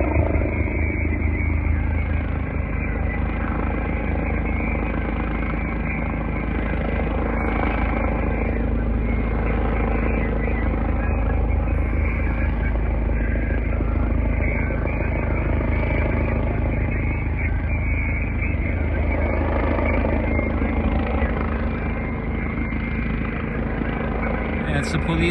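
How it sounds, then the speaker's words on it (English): A police helicopter flying overhead, its engine and rotor drone steady and loud throughout with a faint pulsing beat, people talking under it. "It's a police helicopter."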